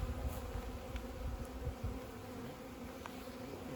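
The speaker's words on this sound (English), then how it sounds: "Got all these bees." A steady, close buzzing of many bees around a held hive frame hums continuously, with brief higher whines as individual insects pass near.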